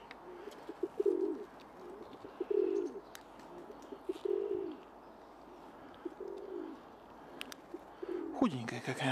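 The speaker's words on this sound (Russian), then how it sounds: "Голубь тут же, да." A pigeon coos outdoors in a steady run of low, soft calls repeating every second or two, close by, while a person talks quietly in between.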